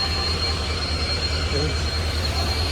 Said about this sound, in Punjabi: ਕਿੰਨਾ ਸ਼ੋਰ ਆ ਟ੍ਰੇਨਾਂ ਦਾ ਰੋਲਾ